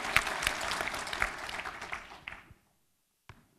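A short burst of audience applause for a speaker at a financial reporting standards seminar, fairly quiet and roomy, dying away abruptly after a couple of seconds with a faint sound afterward.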